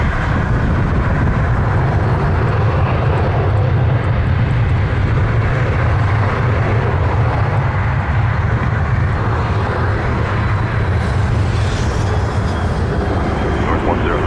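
An airplane takes off from runway 23 at Toronto Pearson airport, a loud, steady, broad engine roar that holds strong throughout, close and unbroken, with air traffic radio voices speaking over it.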